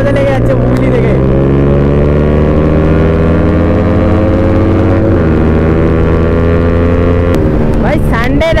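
A Kawasaki Z900 superbike holds a long wheelie, its engine a loud, steady drone with layered harmonics close to the microphone, wind buffeting throughout and a brief shift in pitch near the end.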